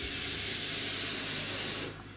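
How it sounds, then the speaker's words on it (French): Water pours steadily into a saucepan in a home kitchen, a dense, close hissing splash that runs unbroken for about two seconds before stopping abruptly. "on commence par mettre un peu d'eau dans la casserole."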